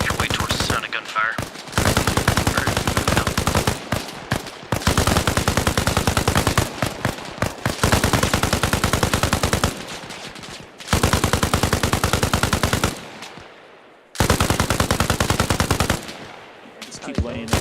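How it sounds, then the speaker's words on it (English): Long bursts of rapid automatic machine gun fire in Arma Reforger rattle loudly, separated by short pauses, with one brief gap near the end before firing resumes. "make your way towards the sound of gunfire"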